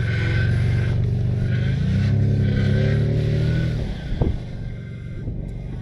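A vehicle powers out of a packed snow hump onto snowy ruts, its engine a steady loud drone that climbs in pitch under load, then eases off with a brief thump and rattle near the end.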